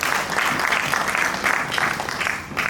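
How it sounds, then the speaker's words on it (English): A conference audience claps to welcome a colleague to the stage, a brief, even burst of many hands with slightly pulsing intensity throughout. "Please, let's clap."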